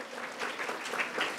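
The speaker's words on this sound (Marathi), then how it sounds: "टाळ्या होता त्यासाठी एकदा" Brief burst of audience applause at a Shiv Jayanti lecture for students and parents, soft steady clapping from a crowd, heard at a moderate distance.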